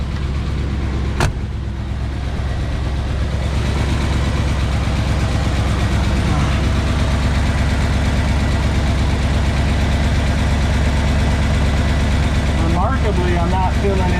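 A 1984 Ford F150 engine idling, heard from the exhaust just past the muffler where gas escapes early; a loud, steady low rumble throughout with a brief sharp click near the start and faint noises toward the end.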